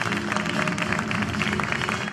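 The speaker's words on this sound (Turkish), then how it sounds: "yüksek alkışlarınızla" Audience clapping at a Turkish awards ceremony as a news program host is called up, a brief, steady burst of applause from a packed hall.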